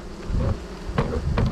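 Honey bees buzz steadily around hive frames during a small early-season hive setup, a dense low hum that stays loud throughout with brief swells.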